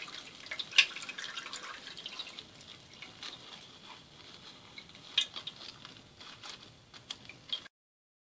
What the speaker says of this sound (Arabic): نقطرها من الزيت